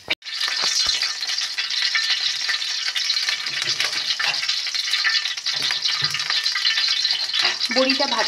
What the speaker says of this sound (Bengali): এদিকে বড়িটা আমার একদম ভাজা ভাজা হয়ে গেছে, এবার আমি তুলে নেব।